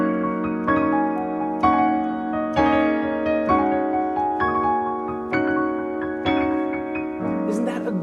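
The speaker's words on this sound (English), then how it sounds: "This is the sound of harmonized turns." Piano playing harmonized turns on the black keys, a run of ringing chords with clear separate attacks about every half second to second, sustained and resonant, close and solo with no talking.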